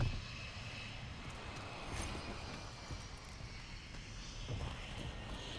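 A VTOL aircraft killstreak in Call of Duty MW3 drones overhead as a steady, faint engine roar over distant in-game battle noise.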